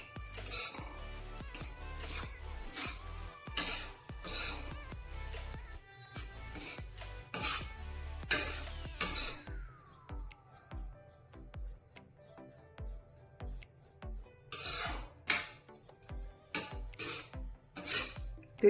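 Flaxseeds dry roasting in a pan for alsi laddu, stirred with a utensil, giving quiet irregular scraping and clinking strokes against the metal, close and faint, with brief pauses between bursts.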